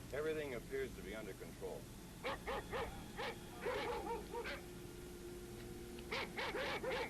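A dog barks and yips in short bursts in a scene from the film Night of the Living Dead, heard beneath people talking, with a few whimpering notes between the barks.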